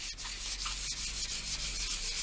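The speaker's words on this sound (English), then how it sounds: "And you give that a nice rub" Stiff card rubbed firmly over layout paper laid on a polymer clay cane, giving a steady, close papery scraping that runs continuously with no talking.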